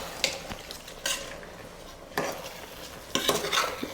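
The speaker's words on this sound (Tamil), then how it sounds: "இப்போ வந்து ஒருக்கா அப்படியே கிளறி விடும்" A spoon scrapes and turns masala-coated rice in a pot for one-pot chicken biryani, with several distinct scraping strokes over a quiet, faint sizzle and no talking.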